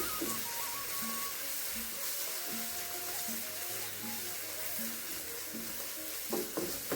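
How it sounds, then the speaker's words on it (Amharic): Berbere spice fries in a pan for Ethiopian ful, a soft continuous sizzle with faint stirring and a few scrapes near the end, heard close and fairly quiet with no speech. "እንደዚህ በርበሬያችንን እንደዛ እንጠብሰዋለን"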